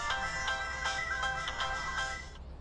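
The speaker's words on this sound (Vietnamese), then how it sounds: "Có điện thoại nè." A telephone ringtone plays a bright, repeating melodic tune in pulses for a couple of seconds before cutting off. It rings clearly with no one speaking over it.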